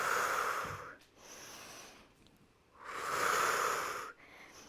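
Slow, deep breaths during a Pilates exercise, heard close up as two long airy exhales separated by quieter inhales, with no talking.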